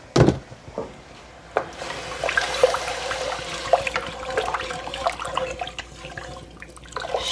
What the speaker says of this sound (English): I'm just going to rinse these out.